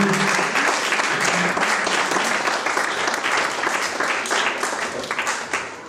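A church congregation at a Sunday worship service applauds and cheers, a dense, steady wash of clapping from many people that continues for several seconds before easing slightly at the end.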